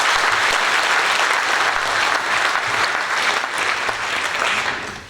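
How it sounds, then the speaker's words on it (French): Loud, dense applause from a political rally audience at a regional campaign meeting in Hagetmau, a sustained wall of clapping that holds steady and then fades slightly at the end. "je crois qu'on peut à nouveau les applaudir."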